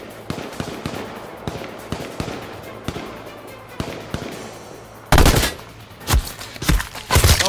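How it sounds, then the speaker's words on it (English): Gunfire in the PS4 game H1Z1, a scatter of sharp shots through the first five seconds, then a loud burst of heavy, rapid firing close by that dominates the end. "Oh God, we're being shot from behind."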